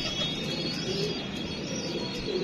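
A pigeon coos in soft, repeated throaty calls, fairly close, over a steady background hiss.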